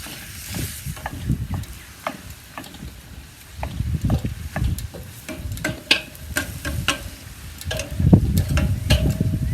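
A meat mincer churns through loaded potato filling in a pan on a kettle grill, making a busy, uneven scraping and stirring with light ticks and a soft sizzle that swells and fades close by.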